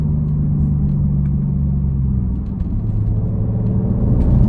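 A 2019 Audi RS5 Sportback with a 2.9 V6 TFSI twin-turbo engine rumbles deeply at close range, a steady low exhaust burble with a slight dip and swell as the revs shift, no voices.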